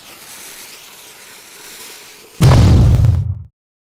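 An old retro-style small single firecracker goes off with one loud, close blast and a roaring burst that lasts about a second before cutting to silence, after quiet background noise.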